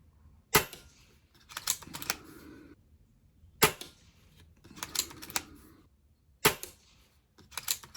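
Stoeger XM1 Ranger air rifle firing, several sharp close snapping shots spaced a few seconds apart, each followed by fainter clicks and handling noises of cocking and reloading.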